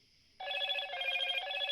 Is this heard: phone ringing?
yes